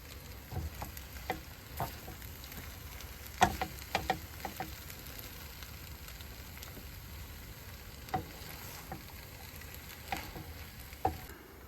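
Food is tossed and mixed with tongs in a RidgeMonkey pan over a soft background sizzle, with scattered clicks and metallic taps from the tongs at irregular intervals, fairly quiet and close.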